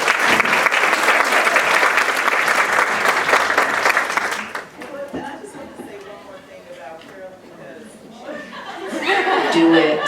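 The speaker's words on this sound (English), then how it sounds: "Please give a round of applause for our panelists" Loud, sustained applause from the audience for the panelists at a women's summit session on entrepreneurial support, filling the first four and a half seconds before fading under talking and light chuckles.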